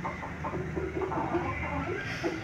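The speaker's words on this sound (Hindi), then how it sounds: "ये देखें दोस्तों ये मुर्गी उठ गई है, इसने अंडा नहीं दिया।" A hen in a backyard bird coop clucks in short, repeated bursts that sit steadily near the listener, with other fowl faintly in the background.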